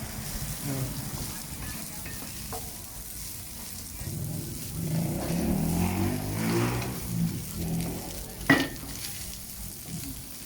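Old-style fried rice being stir-fried in a pan: a continuous soft sizzle with scraping stirs, a steady background hum, and one sharp metallic clink near the end.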